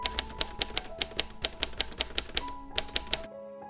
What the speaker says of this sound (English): create a very easy typewriter effect in Premiere Pro